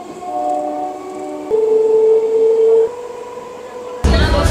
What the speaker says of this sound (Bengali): ডায়মন্ড হারবার এই লোকাল ট্রেন ছেড়ে দিল।